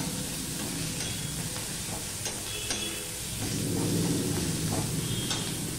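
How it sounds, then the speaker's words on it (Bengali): Grated garlic and half-fried onion hiss and sizzle steadily in a hot pan, with occasional scraping stirs and soft clinks close by and no voices. "পেঁয়াজটা কিছুটা ভাজা হয়ে গেছে, অর্ধেকের মতন ভাজা হয়ে গেছে। এবার রসুনটা আমি দিয়ে দিলাম।"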